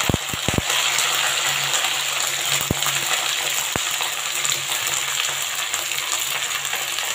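Cauliflower frying in hot oil with nigella seeds and green chilli for a Bengali aloo phulkopi posto, a loud, dense, continuous sizzle with a few sharp clacks near the start, close and without talk.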